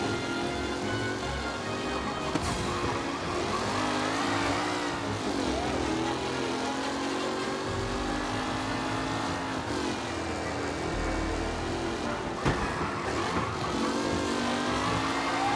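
Race cars in a circuit race from the video game Mafia Definitive Edition, engines droning and whining steadily throughout at close range, with passing surges, occasional sharp accents and crowd-like background noise.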